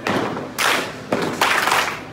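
Line dancers stomp their feet in unison during a country dance lesson, three heavy thuds spaced across a couple of seconds, each a loud, roomy impact with a short ring-out.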